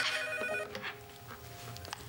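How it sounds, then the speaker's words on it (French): A telephone rings over a continuous hum, its bright ringing tones strongest at the start and then fading into fainter clicks and rustles, with no talk. "Le téléphone!"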